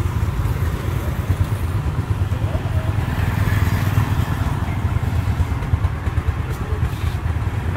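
A Yamaha Jupiter motorcycle engine runs with a steady, close, throbbing idle rumble that holds even and unbroken throughout.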